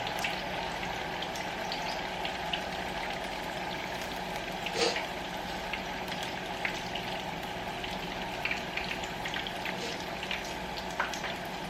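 Patron tequila wing sauce simmers in a pan as its alcohol cooks off, giving a steady, even sizzle and bubbling hiss that carries on without a break and without voices.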